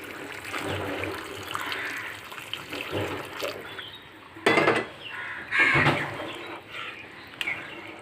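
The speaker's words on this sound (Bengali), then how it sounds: "এবারে পরিমাণ মতো জল দিয়ে ঝিঙের ঝোল তৈরি করে নিচ্ছি।" Water poured into a pan of spiced ridge gourd curry being made with fish. Two short splashing bursts of pouring stand out over a low kitchen background.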